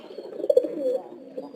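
Pigeons cooing close by in a loft, a few soft, throaty, rolling coos in uneven bursts, with no talking.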